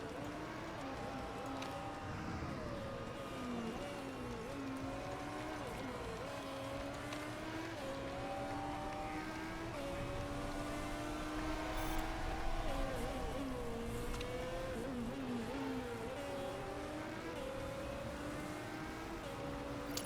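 A race car engine in Motorsport Manager droning through a practice lap, pitch rising and dropping through gear changes and corners, steady and moderately loud with a brief swell midway.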